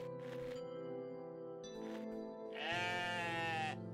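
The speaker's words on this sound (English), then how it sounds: "Oh, sheep." Sheep bleat several times in the video game OneShot, short calls at first and then a longer, louder wavering bleat, with a synthetic, game-like tone.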